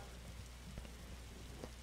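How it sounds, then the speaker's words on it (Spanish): Steady rain falls in the Roblox game RoVille, a soft continuous patter with a few louder drop hits, heard alone at low volume. "¡Me echa la lluvia! Y la lluvia."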